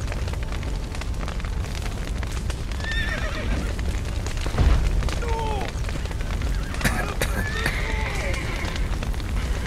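Horses neigh and whinny in panic inside a burning barn in The Witcher 3, several shrill calls rising over crackling fire, hoof clatter and a thud, with voices shouting at moments.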